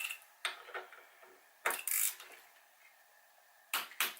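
A torque wrench on a crank swap gives several sharp mechanical clicks and ratcheting snaps as it reaches its set torque, close and clear with no talking.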